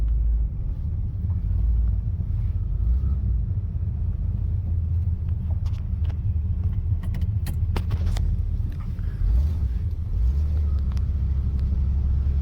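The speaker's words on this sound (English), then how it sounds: "Little small block Chevy's kind of peppy." Small block V8 in a custom 1958 Chevy rumbles steadily from inside the car while driving, a loud constant low drone with light rattles and clinks over it and no talking.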